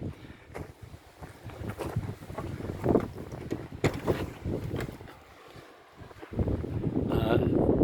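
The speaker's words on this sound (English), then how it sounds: "pretty windy today" Gusty wind buffets the microphone in loud, uneven rushes, swelling and dropping, with a strong roaring gust building toward the end.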